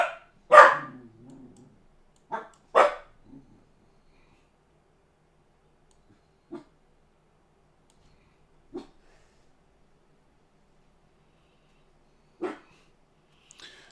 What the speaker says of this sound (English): He's got a little growl, a little bark going on.